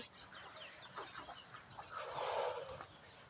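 Chickens cluck and scratch around a rural Thai home on a cold morning, soft repeated clucks and rustling at moderate distance over steady outdoor background noise.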